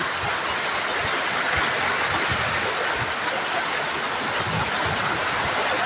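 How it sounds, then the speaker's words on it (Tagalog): Heavy rain pours steadily during a downpour on Holy Wednesday, a dense, loud and unbroken hiss of falling water that stays constant throughout, with no voices heard. "Lakas po ng ulan."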